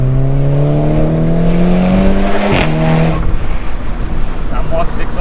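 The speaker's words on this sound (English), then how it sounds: "Rally car noises as well." A Volkswagen Golf R Mk6 engine revs hard on the road, heard loud and close from inside the car, its note climbing steadily before dropping sharply at a gear change and building again with a rougher growl.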